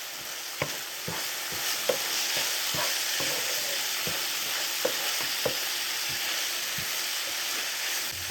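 Beef and pasta cooking in a skillet, a continuous bubbling sizzle with a regular series of light utensil taps and scrapes throughout.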